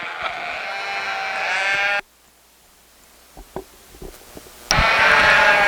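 Yearling ewes bleat repeatedly at a sheep show, loud and close at first, then a quiet stretch with scattered knocks and shuffles before another loud bleat near the end.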